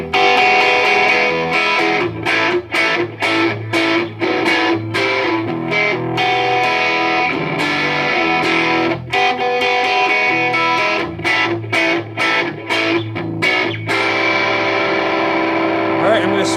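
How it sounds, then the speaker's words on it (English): Electric guitar with a Telecaster-style humbucker pickup position, driven through a Tube Screamer overdrive pedal, playing loud, sustained distorted chords and riffs with rhythmic muted breaks, close and continuous. "I've got my Tube Screamer pedal, and I'm gonna turn it on and we'll get some distortion"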